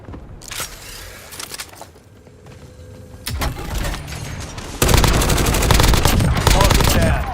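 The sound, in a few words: gunfire in Call of Duty video game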